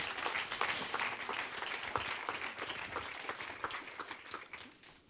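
An audience applauds after a documentary screening, a steady wash of many hands clapping that thins out toward the end, with no voices over it.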